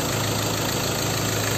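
Mazda BT-50 2.2 diesel engine idling smoothly, a close, steady, even rumble with no talk.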